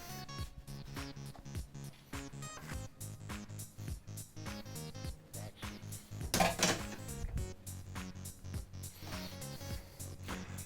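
Grapes being washed in a home kitchen while preparing a summer rice salad: steady clinking and knocking of a bowl or dish with rattling handling, a louder splashy burst midway, close and continuous, with no talk.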